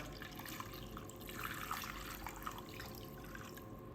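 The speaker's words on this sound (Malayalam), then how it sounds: "ഇനി രണ്ട് കപ്പ് വെള്ളം ഒഴിച്ചു കൊടുക്കുന്നുണ്ട് കേട്ടോ" Faint, continuous trickle of water being poured into a clay pot for a mackerel curry, steady throughout with a soft splashing texture and no talking.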